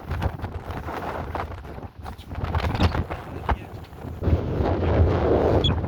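Strong wind buffets a microphone outdoors in Chittagong city, a loud, continuous low rumble with gusts that swell and dip, with a voice faintly present beneath it.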